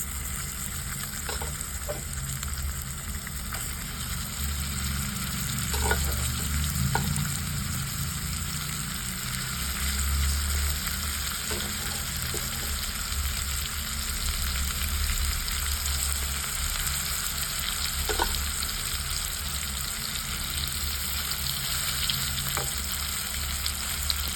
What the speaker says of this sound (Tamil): எண்ணெய் காஞ்சிடுச்சு. இப்போது நம்ம மீனை போட்டு பொரிச்சு எடுத்துக்கலாம்.